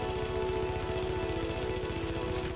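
Rapid, steady automatic gunfire in The Division, continuous and fairly quiet throughout, with evenly spaced shots forming a machine-gun rattle.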